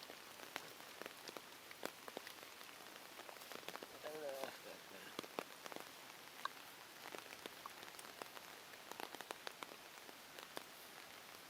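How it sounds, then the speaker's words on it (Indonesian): Rain falls steadily on a village and onto a hut by a fishpond, a continuous dense patter with scattered sharper drops striking nearby surfaces, moderately loud throughout, with a faint voice briefly audible. "Ieu meni sepieun kieu ari hujan teh nya."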